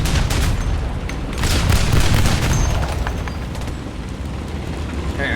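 Tank cannon fire and explosions in War Thunder, dense overlapping booms and gunfire rumbling continuously with heavy low-end, a loud sustained barrage without distinct gaps.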